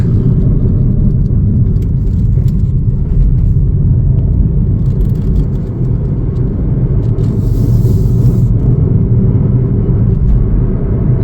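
A Chevrolet Trax 2RS drives along with a steady, loud engine rumble and road noise that hold even throughout, with no talk over it.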